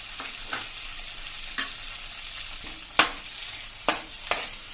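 Finely chopped ginger and garlic frying in oil for pav bhaji, with a faint steady sizzle and a few sharp clinks of stirring over several seconds.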